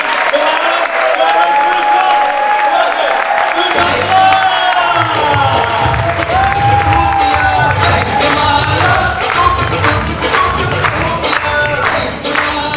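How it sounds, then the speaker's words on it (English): A packed comedy club crowd at a stand-up show in Harrow claps loudly, with cheers and whoops rising through the applause while a voice speaks over the din and music plays underneath. "So we need a huge big round of applause once again."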